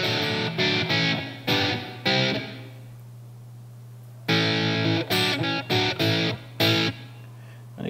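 A TC Electronic SkySurfer reverb pedal gives a spring-tank style reverb to a played instrument: short bursts of chords or notes with brief decaying tails, a pause of quiet hum, then another run of bursts, with no talking.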